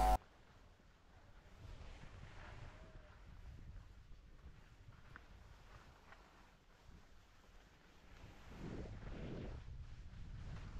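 Strong wind buffets while skiing at Thredbo, a steady rumbling roar of wind on the microphone throughout, swelling louder toward the end.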